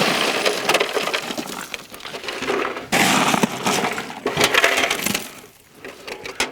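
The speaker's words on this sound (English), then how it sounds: "This is almost another bag of ice." Ice cubes from a bag pour and clatter into a Milwaukee Packout 48-quart XL cooler in loud rattling bursts, with a short pause and several surges of tumbling ice.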